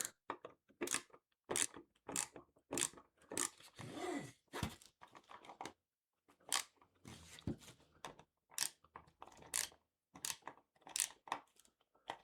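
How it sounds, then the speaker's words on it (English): LIBRATON socket set ratchet worked by hand, a long string of close, crisp clicking bursts in irregular groups separated by short pauses, heard on its own without talking. "Yep, so that ratchet does work. It will hold."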